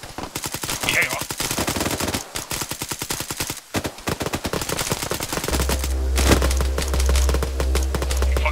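Rapid automatic gunfire from a squad-based military shooter game, loud, dense bursts of shots nearly continuous throughout, with a brief pause midway and a steady low rumble joining toward the end.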